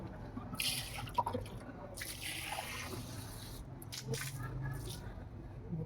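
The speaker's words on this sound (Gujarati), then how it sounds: "ભાઈ પાણીનો નળ ચાલુ થઈ ગયો" A tap at a temple runs under strong pressure with a steady low rush of water, faint splashes and drips, while voices chat quietly nearby.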